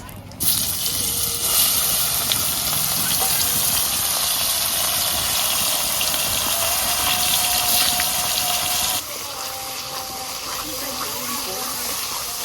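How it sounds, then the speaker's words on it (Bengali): Water runs steadily into a cooking pan, a loud continuous hissing gush up close that eases to a softer flow near the end. "পরিমাণ মতন জল দিয়ে দেবো"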